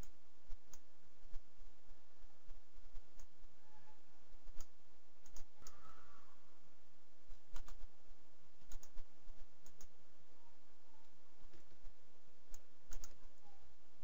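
Sparse, light clicks sound now and then over a quiet hiss, single taps and quick pairs at irregular intervals, close by.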